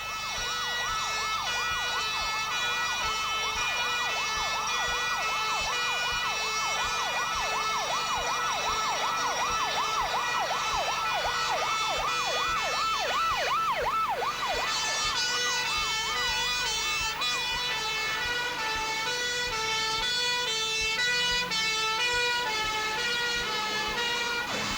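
Hong Kong fire engine sirens wail continuously in fast rising and falling sweeps, loud and sustained over a rumbling road background, with several tones layered together.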